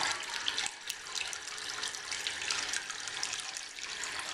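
A 2012 American Standard H2Option toilet tank refills after a half flush, with a steady close hiss and trickle of running water and no talking.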